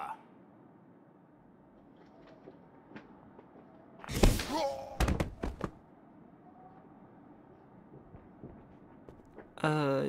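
An explosion in the video game Lost Horizon bursts out loudly near the middle, followed by a few sharp crashing hits. A quiet background hum runs underneath, and another loud noise cuts in at the very end.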